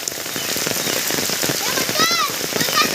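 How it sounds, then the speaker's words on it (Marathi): Heavy rain pours steadily on surfaces in a Konkan village, a dense close hiss with scattered drops, and a few faint voices and whistly calls in the background. "पाऊस खूपच चालू"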